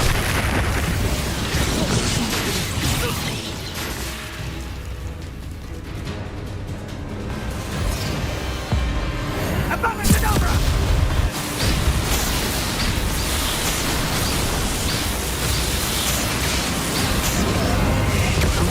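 Explosive spell blasts from Confringo and Bombarda in the Hogwarts Legacy video game, a dense run of booming bursts and pops layered over continuous battle noise and game music for the whole stretch.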